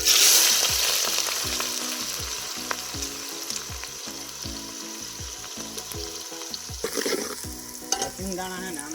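Chopped green onions hit hot oil with cumin and bay-leaf spice for a Gujarati dry potato dish, a loud initial sizzle that settles into steady frying under rhythmic stirring and scraping of the pan.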